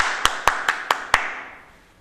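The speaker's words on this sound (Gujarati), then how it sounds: "હું ઝડપથી તાળી પાડું છું" Five quick, sharp hand claps in an even rhythm, close and distinct, with the last ringing briefly before fading into a quiet room.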